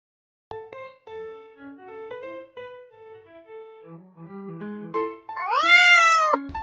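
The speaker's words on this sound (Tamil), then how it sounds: "பூனை பூனை" A cat gives one drawn-out, rising-and-falling meow, clear and close, after a stretch of light melodic tones in an animal-naming lesson for children.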